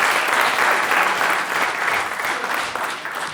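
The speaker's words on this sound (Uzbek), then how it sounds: "Davronbekka bitta qarsak chalib bering-da." Audience members at a stand-up comedy concert break into loud, sustained applause, a thick, close patter of many hands that eases off a little toward the end.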